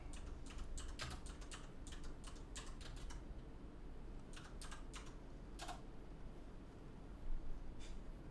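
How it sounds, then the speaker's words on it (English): Bursts of typing on a computer keyboard, with clusters of fast key clicks separated by short pauses over a low steady hum, close and fairly quiet. "You can hear me angrily typing."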